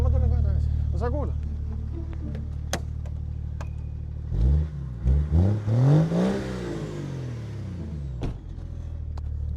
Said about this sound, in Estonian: Turbovilin, midagi seal lekib